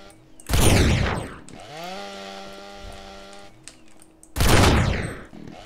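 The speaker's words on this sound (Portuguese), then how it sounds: "tô acertando um tiro nele e não tá morrendo" Gunfire in the video game SA-MP: two loud broadband bursts of rapid shots near the start and again near the end, separated by a sustained tonal in-game sound.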